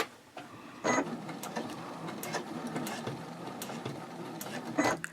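A sewing machine stitching a pouch slowly around a curve, one stitch at a time, with short mechanical whirring bursts and clicks over a steady low background hum.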